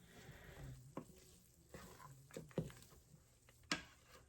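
A spoon stirs creamy low-carb crab bisque around a pot, making soft scraping swirls with a few sharper clinks against the sides, quiet and close with no talking.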